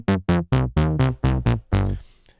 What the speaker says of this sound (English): This one's called Dirt Bass. It sounds like this.